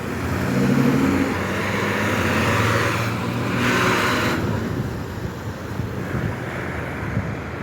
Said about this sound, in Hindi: देख लें गाड़ी आ रही हैं, जा रही हैं।